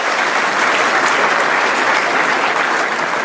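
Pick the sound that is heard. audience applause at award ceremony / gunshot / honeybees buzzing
audience applause at award ceremony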